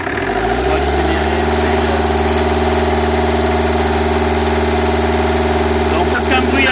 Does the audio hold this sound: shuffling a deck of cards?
no